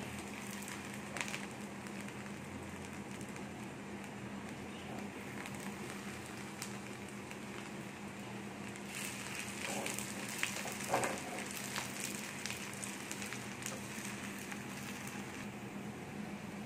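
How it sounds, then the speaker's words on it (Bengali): Garlic frying in oil in a pan until golden red, for a beef and khesari lentil curry: a steady, moderately quiet sizzle with light crackles and a few small pops, continuing evenly throughout with no talking. "একদম রসুনটা লাল লাল করে একটু ভেজে নেব।"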